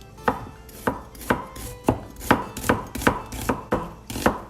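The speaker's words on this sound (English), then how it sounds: "we're gonna mince it nice and thinly" Half an onion being minced thinly with a knife on a cutting board: about a dozen crisp, evenly spaced chops, close and clear with no talk.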